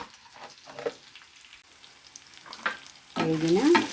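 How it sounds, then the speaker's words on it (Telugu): Onions and tomato pieces frying in a pan for restaurant-style paneer masala curry, a soft sizzle with light stirring that swells into a louder, fuller hiss near the end. "వేయించుకున్న ఆనియన్స్లో కట్ చేసి పెట్టుకున్న టమాటా పీసులు కూడా వేసుకొని వేయించుకోవాలి."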